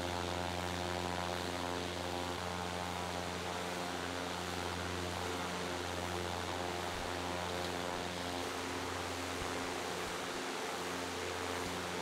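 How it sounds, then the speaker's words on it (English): Steady, loud drone of a Cessna Skyhawk 172 piston engine and propeller inside the Prepar3D flight simulator, a constant harmonic hum with airflow hiss running unbroken and alone throughout. "Is the plane too loud or how's that?"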